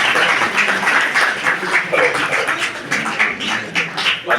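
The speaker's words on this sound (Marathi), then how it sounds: "आपण जोरदार टाळ्या वाजवून फ्रान्सिस लोपेस साहेबांचं स्वागत करूया." Lively applause from an audience at a senior citizens' association gathering in Bhuigaon greeting a guest, a crowd of hands clapping steadily for about four seconds with faint voices underneath.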